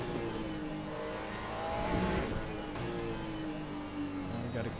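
A hypercar race car engine in Le Mans Ultimate drones and revs steadily at moderate level, swelling briefly as other cars run close by in a pack, with some talk over it.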